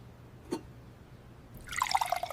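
Water is poured into a glass, a short bright trickle that starts after a small knock and keeps filling until the end.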